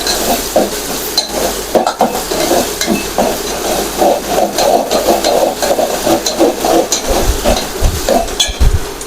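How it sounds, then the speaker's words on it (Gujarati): Food being stirred in a pot, with repeated scraping and clinking of a utensil against metal over a soft sizzle, close and fairly loud. "હલાવતા રહેશું જેથી કરીને તપેલીમાં ચોટી ન જાય"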